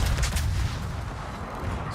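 Rapid, overlapping secondary-battery gunfire from a tier 10 battleship in World of Warships blasts continuously, loud and close, as booming volleys blur into a steady rumbling barrage.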